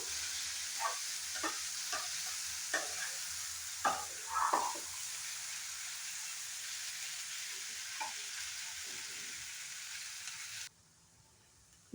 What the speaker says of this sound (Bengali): এখন রাজমাটাকে মশলার সাথে একটু ভালো করে রান্না করে নেব।